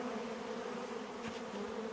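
Honeybees buzz from a nearly empty package during a hive install, a faint, steady drone with a low hum throughout the short stretch.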